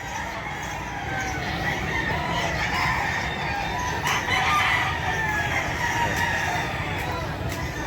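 Chickens and roosters at an outdoor pet market where fowl are sold in Bocaue, with repeated crowing and clucking from several birds at middling distance amid a busy crowd murmur, one voice speaking now and then.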